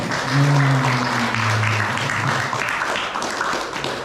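A crowd breaks into applause, a dense wash of clapping that swells and then slowly thins out, with a voice briefly audible underneath.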